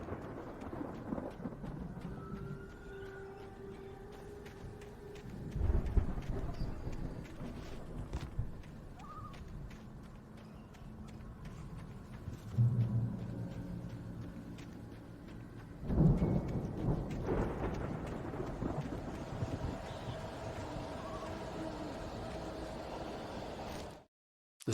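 Thunderstorm with rain in the video game Alan Wake. Faint steady rain hiss is broken by several low rolling thunder rumbles that swell and fade at intervals, with no talking.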